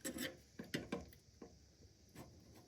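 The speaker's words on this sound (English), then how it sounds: "It's easiest if you have a nice new sharp razor blade that can just cut it out." A razor blade scrapes old caulk off a sink in short, separate rasping strokes, about half a dozen quiet close scrapes with brief pauses between them.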